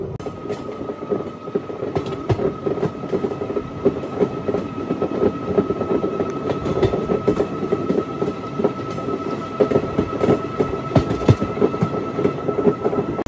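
The Andaman Express train rolls along near Kathua station, with a continuous rumble, rhythmic wheel clatter and occasional metallic squeals heard from inside a carriage.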